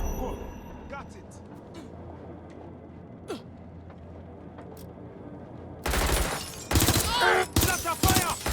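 Bursts of rapid gunfire crackle from a firefight in the video game Watch Dogs: Legion, starting abruptly after a quiet stretch and coming in loud, dense volleys, with voices heard among the shots.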